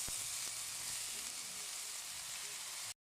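Carrots for lumpia fry in a hot pan with a steady, close sizzling hiss and a couple of faint utensil taps, running continuously until it cuts off abruptly.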